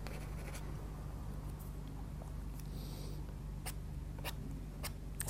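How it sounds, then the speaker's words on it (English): A Derwent Artbar accessory scrapes scribbles and lines into layered crayon on paper, giving soft, close scratchy strokes in short bursts with a few sharper scrapes, no voice present. "Maybe down the bottom here we might scrape in a few scribbles and lines"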